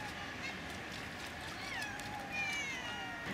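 A group of street cats near busy main roads gives several short meows against faint outdoor background noise, while a person talks over them.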